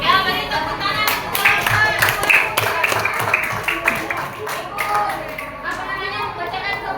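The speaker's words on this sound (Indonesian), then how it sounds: "beri tepuk tangan untuk" A group of children and adults claps hands in a classroom, a lively run of crisp, uneven claps lasting several seconds, mixed with chatter and voices.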